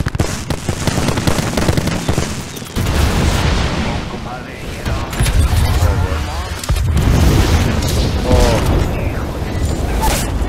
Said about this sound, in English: I'm being shot up, dude.